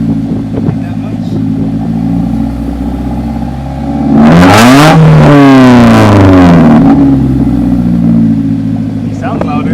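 Slammed Nissan Versa with a DIY exhaust revving up close, a steady loud idle that swells into a sharp rev, rising and falling in pitch, then settles back to idle, with voices talking around it.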